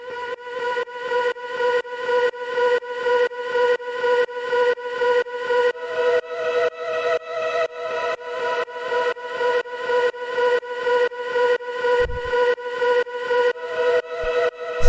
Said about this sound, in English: the first sound that we have is this vocal stab,